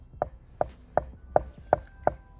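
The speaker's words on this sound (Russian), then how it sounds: "И аккуратненько нарезаем." Seven evenly spaced knife chops through a rolled log of dough on a board, quick and close, each a short thud with no voices.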